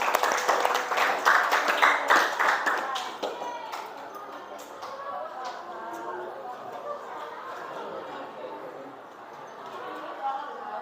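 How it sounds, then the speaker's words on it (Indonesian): A classroom applauds a student, loud dense clapping for about three seconds that fades into scattered claps, followed by a teacher talking over soft room noise. "Applause for Diko."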